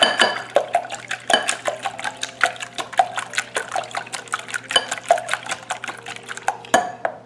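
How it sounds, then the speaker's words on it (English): Eggs with vanilla beaten together in a bowl, a steady rapid rhythm of whisk or fork clicks against the dish with faint liquid slosh, close and continuous without talk. "I'm going to beat the eggs together."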